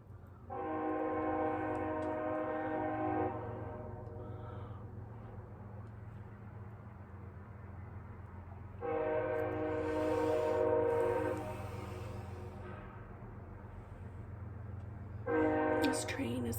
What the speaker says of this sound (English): This train is coming through fast and letting you know it's here, blowing its horns